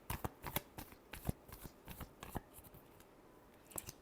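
Tarot cards are shuffled in a final round before a reading, a quiet close series of crisp riffling snaps and flicks in an irregular rhythm.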